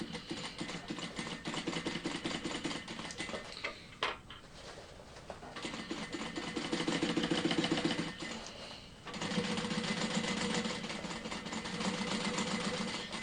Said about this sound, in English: I am just going to run that second row of stitching round